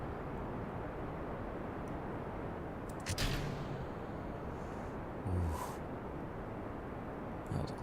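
Rocket engines roar in Kerbal Space Program, a steady dense rumble that holds throughout, with a few brief louder thumps and crackles, no talk.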